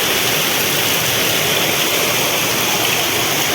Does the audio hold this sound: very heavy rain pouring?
yes